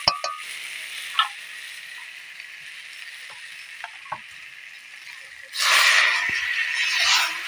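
Eggs going into a hot pan for egg curry sizzle with a steady hiss, scattered clinks and scrapes along the way, then a louder burst of sizzling near the end, close up.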